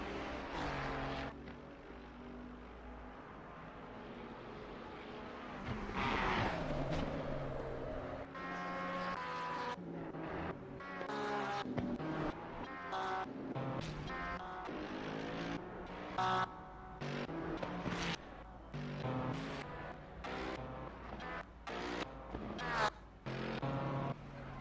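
Race car engine lapping the Spa-Francorchamps circuit in a sim racing game, a loud, continuous high-revving whine with repeated gear-shift drops and surges throughout.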